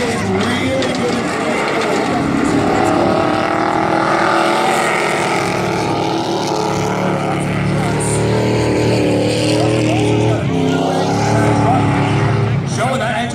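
Race car engines roar around a track near the end of a race, a continuous loud droning whine that rises and falls as cars pass, with commentary running over it.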